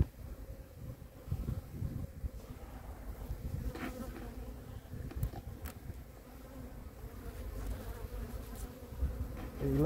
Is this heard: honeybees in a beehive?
yes